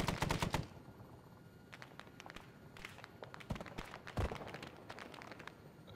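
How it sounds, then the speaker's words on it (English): Rapid bursts from a KPV heavy machine gun in a video game gunship fight, a dense rattling volley up front, then scattered heavy shots and impacts continuing over a busy battlefield background. "Yeah, it's a KPV."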